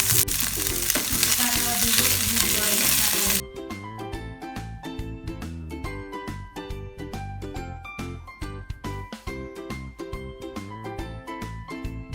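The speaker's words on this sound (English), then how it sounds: "We're going to fry this for some time" Chili chicken and onion fry in a pan, a loud bright sizzle at first that quickly gives way to music with faint frying underneath.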